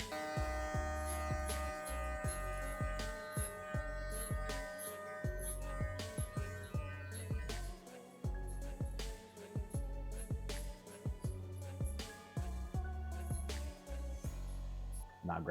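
Electric hair clippers fitted with a guard hum steadily during a fade haircut, a low buzzing drone that stops and restarts in short bursts, close to the ears, with faint clicks and handling noise between passes.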